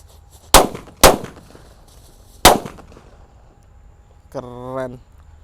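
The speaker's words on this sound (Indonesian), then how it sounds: "Selanjutnya ini ada mercon disco happy flower yang warna merah." Four red disco happy flower firecrackers go off in three sharp, loud bangs spaced about half a second to a second and a half apart, followed by a short voiced sound.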